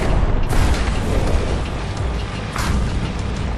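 Heavy explosions boom in the real-time strategy game Tempest Rising as a harvester is destroyed, with a loud rumbling blast and a second burst amid ongoing battle noise; no talking.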